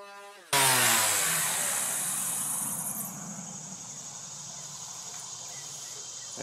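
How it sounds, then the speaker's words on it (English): Power sander fitted with 150 grit sandpaper runs along the edge of a kitchen cabinet door, starting abruptly with a loud, steady whine and grinding hiss that continues unbroken and close by. "we're just going to run the sander across here until we get a nice smooth finish on this edge"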